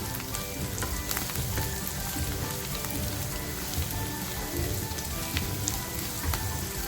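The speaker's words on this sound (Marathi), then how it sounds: "आपलं खोबरंसुद्धा छान भाजलं गेलं पाहिजे" Grated coconut and onion roast in a pan for misal, a dense, even sizzle with fine crackling throughout, close and fairly quiet, with no voices.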